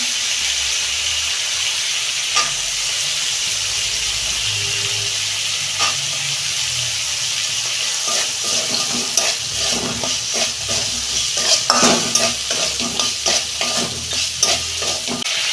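Chickpeas fry in a pan of spiced oil for a vegetarian papaya curry, giving a continuous close hiss and sizzle as a spatula scrapes and stirs repeatedly, busier toward the end, with no voices.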